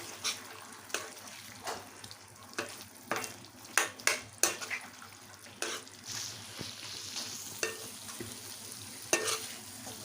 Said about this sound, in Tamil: நல்லா கலந்து ஃப்ரை பண்ணிக்கலாம்.